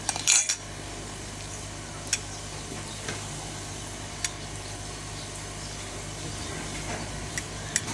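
Carrot halwa is spooned onto a plate with sparse metallic clicks and taps of a spoon against the dish, spaced seconds apart over a low steady background hum.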